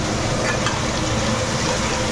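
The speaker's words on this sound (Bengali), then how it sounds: "আলু ভাজাটা বসালাম" Potatoes frying in a pan in a home kitchen, a steady dense sizzle filling the whole stretch at close range, with no pauses and no talk.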